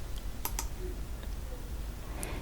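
Two quick, sharp mouse clicks on the Open button in Photoshop CC 2021, close and fairly quiet over faint room hiss.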